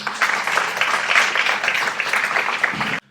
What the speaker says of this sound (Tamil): நீங்களே ஒரு பலத்த கரகோஷம் கொடுக்கலாம்